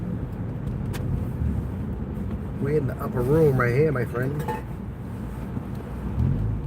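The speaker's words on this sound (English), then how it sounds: "Traffic, I'm telling you, this is to be expected here." Steady road traffic rumbles near the George Washington Bridge in New York, a continuous low engine drone with a passing vehicle swell in the middle, while someone talks over it.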